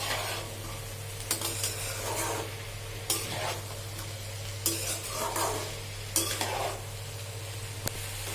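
Mixed vegetable sabji is stirred in a pan over a steady low sizzle, with several distinct scraping strokes of a spatula at irregular intervals and a constant background hum.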